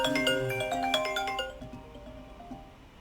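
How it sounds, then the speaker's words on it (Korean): A mobile phone ringtone goes off in a lecture hall, a close melodic electronic tune repeating a few bright notes before cutting off abruptly, leaving faint room tone, no speech. "저기 전화가 갑자기 걸려서"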